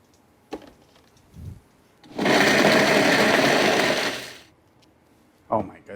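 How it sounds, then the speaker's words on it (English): A blender whirs loudly and steadily for about two seconds, puréeing soaked guajillo chiles with some of their soaking liquid; brief kitchen clatter comes before and after the run. "Drop these guys right in the blender too."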